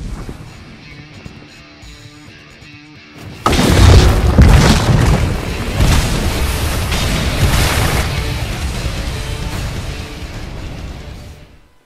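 A Table Flip area-of-effect blast from the Roblox game The Strongest Battlegrounds: a sudden loud booming burst that follows a quieter stretch, then a long rumbling, crackling tail that slowly fades.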